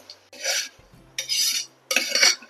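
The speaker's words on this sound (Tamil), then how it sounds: "உப்பு சேர்த்து நல்லா கலந்து விடுங்க." A spoon stirring onion, tomato and salt in a cooking pot for chicken curry, three separate scraping strokes with short pauses between them, close and clear with no talking.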